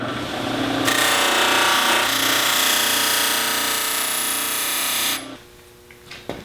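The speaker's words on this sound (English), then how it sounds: "Now we'll buff things up to get it nice and shiny." A steel blade is buffed to a shine on a power buffer, a loud continuous high-pitched whine lasting about four seconds before spinning down, with faint clicks afterward.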